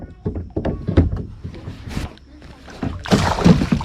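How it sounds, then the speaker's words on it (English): A bass splashes the water beside a kayak, a sudden loud burst of spray near the end following scattered thumps and knocks on the hull, close to the microphone. "he splashed me in the face"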